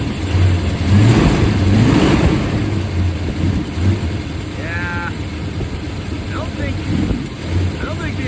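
The supercharged 1961 Studebaker Hawk engine runs close by, idling and rising into revs with a throaty mid-range rumble, while a person talks over it.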